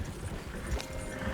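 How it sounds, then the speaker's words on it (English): Horses galloping in the Red Dead Redemption 2 video game, heard as quick, rhythmic clip-clop hoofbeats over a dense low rumble, steady and moderately close through a short burst. "Horses won't go this fast for long."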